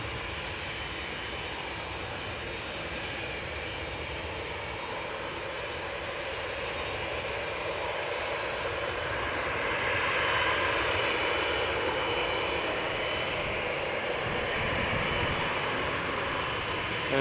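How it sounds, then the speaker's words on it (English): A nine-year-old Boeing 787-8 Dreamliner bound for Curaçao takes off at Amsterdam Schiphol, its broad jet roar steady at first and then swelling louder as it climbs, heard from a distance with no voices. "It is a Boeing 7878 Dreamliner, 9 years old"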